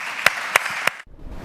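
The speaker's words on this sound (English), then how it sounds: "welcome him by joining me and clap our hands" A few distinct claps ring out over a steady crowd hiss at a symposium, then the sound cuts off abruptly into near silence.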